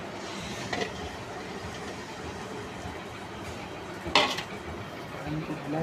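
A spoon stirs a mixture into spices in a pan on a low flame, giving a steady scraping rustle with a couple of distinct metallic clanks against the pan.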